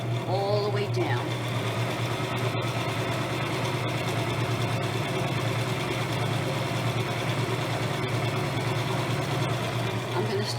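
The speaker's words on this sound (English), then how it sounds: "Now I'm going to continue to sew all the way down." Sewing machine stitching reversible napkin fabric, a steady continuous mechanical hum and whir running close by for several seconds without pause.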